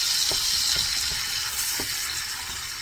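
Ground meat browning with Cajun Smoke seasoning in a pan gives a steady loud sizzle, broken by a few soft clicks of stirring, close up and with no voices.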